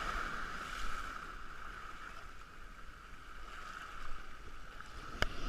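Sea water washes and churns around a small boat, a steady rushing hiss of waves that swells and eases, with a sharp knock near the end.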